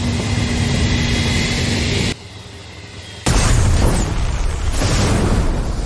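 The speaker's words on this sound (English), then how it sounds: "the tank exploded due to a system error" A tank exploding in a war movie: heavy, booming blasts and roaring rumble, loud and close, with a sudden drop in level and then a fresh burst of crashing debris and fire.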